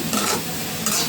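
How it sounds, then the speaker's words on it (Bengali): Black sesame seeds and rice dry-roasting in a pan while being stirred, giving a brief, close, steady scraping rustle with a light sizzle. "এখন কটা তিল ভেজে নিচ্ছি, তিল আর চাল ভাজা"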